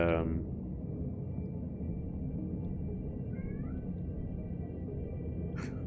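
A cat meows once right at the start, then gives a short chirping call midway, both over a steady low background hum.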